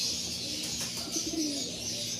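A pigeon coos softly and briefly, close by, over a steady background hum.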